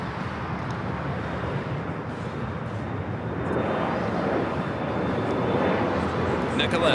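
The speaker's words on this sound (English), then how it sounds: "This is Japan Airlines Flight 60 coming in from Osaka on the 787-9" Japan Airlines Boeing 787-9 Dreamliner arriving from Osaka at Los Angeles airport, a steady broadband jet roar with wind that swells slightly louder midway and holds, while a voice talks over it.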